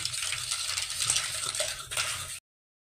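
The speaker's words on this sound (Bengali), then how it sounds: "এবার দইটাকে হ্যান্ড বিটার দিয়ে ভালো করে ফেটিয়ে নিলাম।" Yogurt being whisked by hand with a hand beater, a steady scraping, clinking stir against the bowl that goes on for about two seconds and then stops abruptly.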